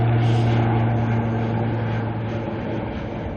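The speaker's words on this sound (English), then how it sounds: "It's an ATR heading to a New Plymouth." An ATR turboprop departs Auckland Airport for New Plymouth, its engines giving a loud, steady droning roar with a sustained low hum that fades slightly toward the end.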